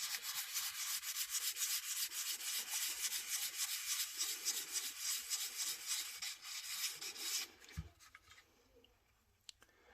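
Steady, continuous rasping of sandpaper rubbed back and forth over a surface with a finer grit, close and loud for most of the stretch, then stopping and giving way to quieter scuffs and handling noises.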